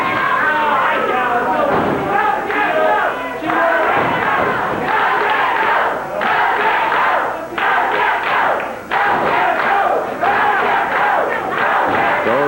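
Loud wrestling arena crowd chanting and roaring in rhythmic waves for a Memphis CWA match featuring Jeff Jarrett, with thuds from the ring mixed into the constant din.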